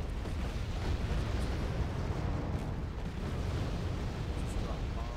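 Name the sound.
bombs exploding from air strike in Wargame Red Dragon video game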